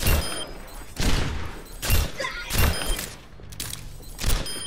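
Kerrigan Widowmaker gold gun firing in a video game, five heavy, evenly spaced single shots about a second apart, each with a short booming tail.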